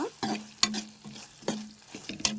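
Finely chopped tomato being stirred in a frying pan for a cashew curry, with repeated scraping strokes of a spoon over a low, soft sizzle, close up.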